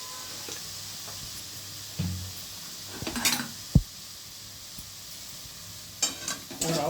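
Matar paneer masala with turmeric and salt stirred and fried in a pan, a low sizzle under a few distinct scrapes and metallic knocks of a utensil, close, with no talk.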